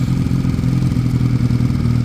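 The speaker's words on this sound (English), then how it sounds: "Bike sounds better there actually, yeah. Look, there you go, slight fluctuation in revs," A Sinnis Cruisestar motorcycle engine idles close by after a carburettor clean, a loud steady low throb with slightly fluctuating revs.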